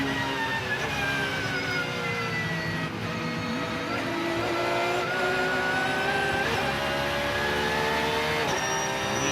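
Onboard sound of a Porsche GT race car lapping Sebring in a GT World Challenge race: a loud, continuous engine roar with rising and falling revs through gear changes and a turn, close and steady throughout.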